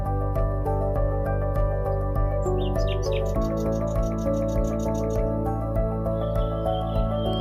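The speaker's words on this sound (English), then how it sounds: "We found the nightingales almost immediately, and they were singing like crazy." Nightingales sing in Kent, their bright chirps and trills rising in a quick burst over a steady low droning background, then fading to scattered notes.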